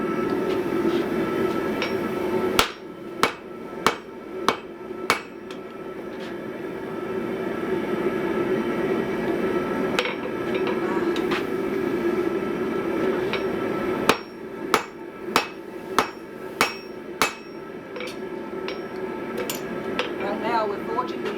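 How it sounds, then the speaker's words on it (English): Hammer blows ring out while the ends of a diagonal peen hammer head are forged square, striking in clusters of sharp metallic hits over a steady roaring forge hum. "Now we're forging the ends in, so we get back to a nice square."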